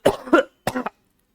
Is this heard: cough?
yes